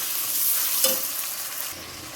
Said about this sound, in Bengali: আদা রসুন দিয়ে দিলাম, ভালো করে কষিয়ে নেব।